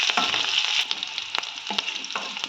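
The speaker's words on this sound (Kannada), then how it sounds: "ಅದನ್ನು ಚೆನ್ನಾಗಿ ಬ್ರೌನ್ ಕಲರ್ ಬರೋವರೆಗೂ ಫ್ರೈ ಮಾಡ್ಕೊಳ್ಳೋಣ" Lengthwise-sliced onions fry in oil for brinjal rice, making a loud, continuous hiss up close, with scattered clicks and clatter from stirring and no talking.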